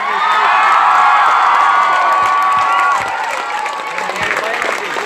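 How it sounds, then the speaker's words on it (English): A crowd at a family presentation event claps and cheers loudly, with whoops and shouts riding over the applause before it eases slightly toward the end; voices are mixed in the noise. "we'll give this woman the biggest round of applause that she's given all night"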